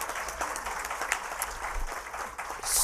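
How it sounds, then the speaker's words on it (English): A crowd applauds at a women-owned business day event introducing a state senator, a steady dense wash of clapping throughout, swelling louder at the very end, with no speech over it. "Give him a round of applause."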